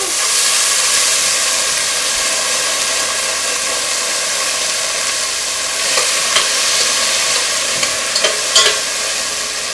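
Frozen sliced bell peppers hit a hot pan and fry with a loud, continuous close sizzle and hiss, with a few stirring clicks and scrapes toward the end.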